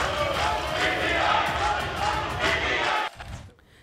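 Members of the opposition Sunni Ittehad Council chanting slogans in a parliament chamber, a dense loud crowd roar of voices that runs steadily and then cuts off sharply near the end, leaving fainter murmur.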